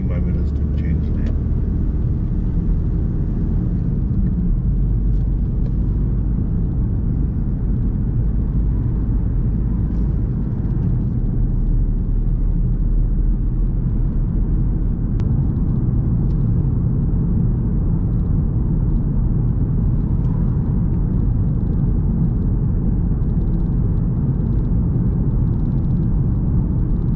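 Car engine rumble and road noise, steady and continuous throughout as the vehicle pulls away and drives on, with a low droning hum filling the cabin.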